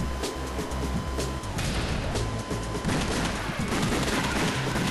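Rapid gunfire from House of the Dead: Overkill, a dense stream of repeated shots and impacts with a pounding low rhythm, loud and continuous.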